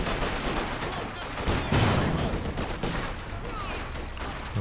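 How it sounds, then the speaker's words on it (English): Machine gun fire and battle noise from a Company of Heroes 2 match, a dense, steady clatter of gunfire with louder bursts, continuous through the whole stretch. "trying to maximize the damage from the machine gun"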